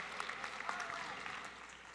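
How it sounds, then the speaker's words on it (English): A short burst of audience clapping for a sign language interpreter at a furry convention dance competition, moderately loud and steady with scattered sharper claps, fading slightly toward the end. "give a round of applause for our sign language interpreter over here"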